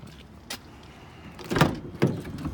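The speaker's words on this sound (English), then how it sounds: "We got power sliding doors. You can do it with the fob or the door." The power sliding door of a 2018 Dodge Grand Caravan GT at a dealership runs with a soft motor whir, then a couple of sharp latching clunks as it closes, close by and fairly loud.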